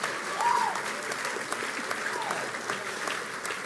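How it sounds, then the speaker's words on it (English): Applause and cheering from a graduation ceremony audience for a law school J.D. graduate, a steady dense wash of clapping with a few whoops, moderately near and sustained throughout. "That's some cheering section"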